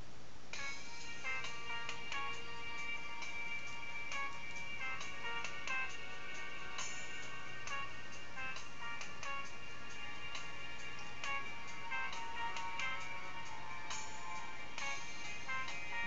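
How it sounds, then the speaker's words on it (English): A ringtone plays alone for about sixteen seconds as a busy, shrill electronic melody of bright repeating notes, close and steady, with no talking over it. "This is just about the worst ringtone I ever heard of."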